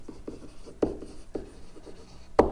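Pen or marker writing out geometry congruence statements, a series of soft scratching strokes with a few sharper taps, close and fairly quiet, with no talking.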